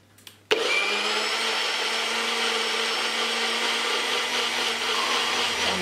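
A food processor whirs up to speed after a faint click and runs in a steady, loud, continuous drone while blending spinach and kale soup, with no voices over it.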